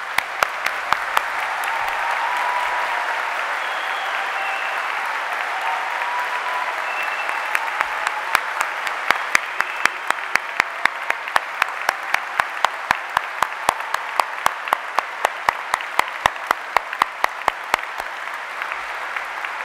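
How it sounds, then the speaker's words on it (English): Large audience at a university degree ceremony in Edinburgh applauds loudly and continuously, the dense clapping gradually turning into a steady rhythmic clap in unison that keeps going to the end. "let's start by giving them all a wonderful round of applause."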